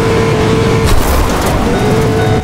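A noisy truck engine in a video game drones steadily and loudly throughout, a constant low rumble with a faint steady whine above it and no pauses.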